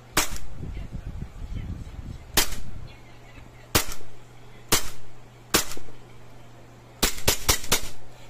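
An airsoft Glock 17 gas pistol fires sharp cracking shots, singles spaced apart and then a quick burst of four at the end, loud and close with a faint hum between shots.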